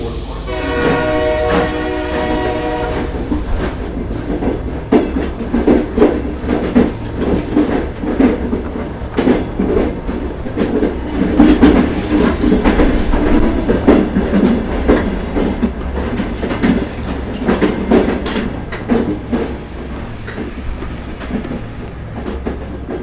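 A passenger train rolls steadily along the rails with a continuous rumble and rhythmic clacking, and a horn-like tonal blast sounds near the start; the noise stays loud and close throughout with no talking.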